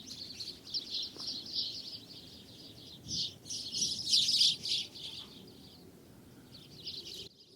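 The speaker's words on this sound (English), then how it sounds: "those birds were making some noise" Several birds chirping and squabbling, apparently over seed, in snowy New England; bursts of high, busy tweets come and go, moderately near against a quiet background.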